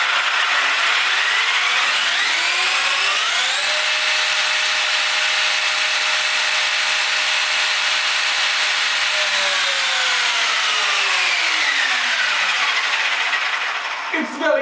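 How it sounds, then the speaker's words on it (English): A Traxxas X-Maxx 8s RC truck on Proline Badlands tyres revs hard, its loud, near electric motor whine climbing, holding high and winding back down in one sustained run. "We're going to rev it up again like before to show you the difference."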